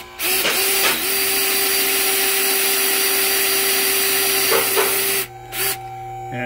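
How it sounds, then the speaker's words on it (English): A power drill bores steadily into a seized wheel stud with a continuous high whine and grinding, close and loud, briefly easing off near the end before restarting. "let's drill that out"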